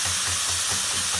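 Bacon bits fry in a pan with a steady, loud, continuous sizzling hiss that fills the whole moment, close up and without voices.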